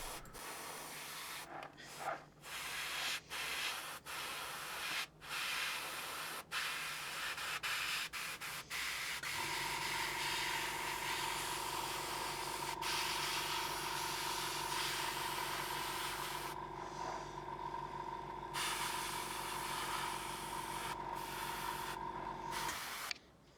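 A steady airbrush hiss spraying Vallejo Game Air paint, with a sustained tonal whine from the compressor, running continuously after a few short bursts of spray and clicks at the start.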